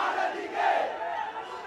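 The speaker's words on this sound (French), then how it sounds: "Dans les rues de Colombo, des centaines de manifestants crient leur colère" Hundreds of angry protesters shout together in the streets of Colombo, a dense, continuous roar of raised voices that swells in the middle and stays loud and close throughout.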